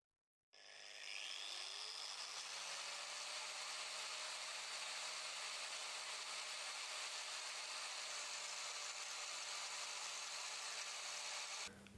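An Einhell TC AG 125/850 angle grinder, measured from 20 cm, spins up after half a second into a steady high whine that holds evenly until it cuts off at the end.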